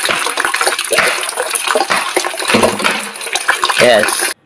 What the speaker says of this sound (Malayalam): ടാങ്കിൽ വെള്ളം പോകുന്നു